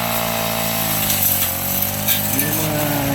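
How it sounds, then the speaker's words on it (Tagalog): A grass cutter runs steadily in a field on a hillside pineapple plot, its high-pitched engine whine droning loud and continuous at close range with slight rises in pitch. "Yun o, nag-grass cutter."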